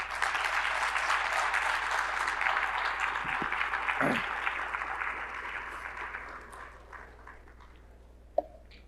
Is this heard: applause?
yes